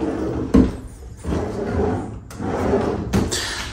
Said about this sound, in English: Let's get you a look at some drawer space.